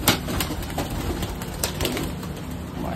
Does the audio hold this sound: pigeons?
yes